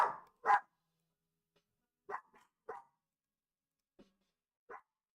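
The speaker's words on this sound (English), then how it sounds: "Dogs bark too much." Dogs in the Roblox game Adopt Me bark in short separate bursts, a few quick barks, then more spaced single ones, moderately loud against silence.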